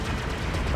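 Ship weapons fire in the space combat game Freelancer, a dense, continuous burst of rapid shots packed close together for under a second.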